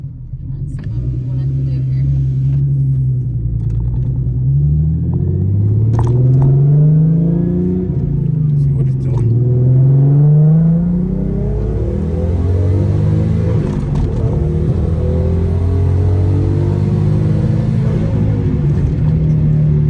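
A turbocharged car accelerates with rising engine pitch in repeated sweeps as the gears climb, heard loudly from inside the cabin with people talking over the steady rumble.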